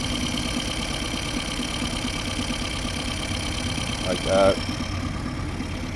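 A 2021 Mercury 9.9hp long-shaft four-stroke outboard engine idles steadily and close, a constant mid-pitched drone. Someone speaks briefly near the end.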